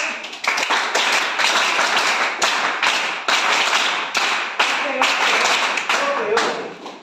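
Rapid, continuous hand clapping from a group in a class session, sustained and fairly loud for the whole stretch with brief dips between bursts.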